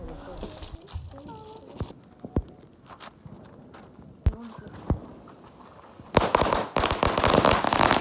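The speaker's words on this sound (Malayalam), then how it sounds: "എടുത്ത് 1K മാല പൊട്ടിക്കാലോ" A string of 1,000 firecrackers goes off at a Vishu celebration. Scattered sharp cracks come first, then a dense, loud run of rapid bursts fills the last two seconds.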